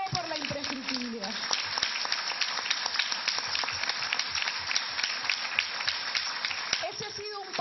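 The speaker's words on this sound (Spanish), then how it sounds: "yo quiero pedirles por favor un aplauso para Javier Díez Canseco" Dense, steady applause from an audience at a public forum against corruption, honoring Javier Díez Canseco, swells loudly and fills nearly the whole stretch, with a voice briefly audible at the start and end.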